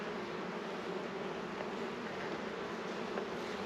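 Honey bees at an opened hive during a chalkbrood check drone in a steady, close buzz that fills the air evenly, with no voices present.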